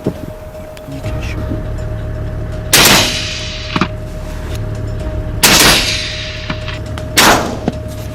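Rifle gunshots from hunters shooting at a camel herd in Australia, three loud sharp cracks spaced a few seconds apart, each with a short rolling echo, over a steady background hum and faint outdoor noise.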